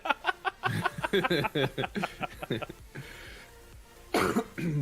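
A few sharp coughs and a throat clearing burst out close to the microphone on a live gaming morning show, interspersed with nearby talking and a brief chuckle.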